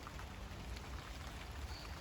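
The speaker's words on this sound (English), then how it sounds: "And it has started to rain again." Rain falls steadily in a tropical garden, a dense, even patter of drops on leaves and surfaces, soft and continuous throughout.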